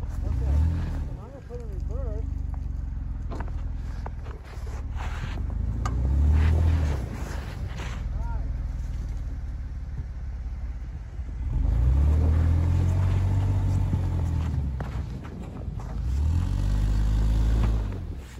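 A Jeep fitted with an Eaton Truetrac differential spins its wheels, engine revving in repeated rising and falling surges, loud and close, with people talking between the bursts and wind buffeting the microphone.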